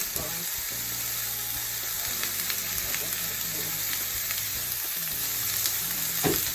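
Jackfruit with jerk spices, garlic and onion powder sautés in oil over lowered heat, an even, continuous sizzle with faint crackles throughout and no speech.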